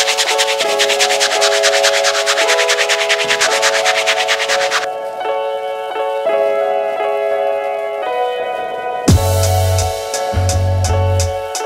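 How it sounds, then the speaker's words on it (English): Hard brush scrubbed over a suede Adidas Stan Smith shoe during cleaning, steady close scratchy rubbing strokes that stay fairly constant throughout, with no talking. "we're gonna give it another rub with the hard brush and see the final output"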